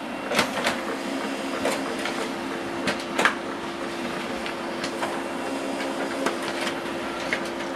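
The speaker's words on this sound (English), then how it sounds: "So this document right now is printing two-sided," An HP LaserJet 4102 printer prints a document double-sided in black and white, a steady mechanical whir with repeated rhythmic clicks and clacks as paper feeds, no talk.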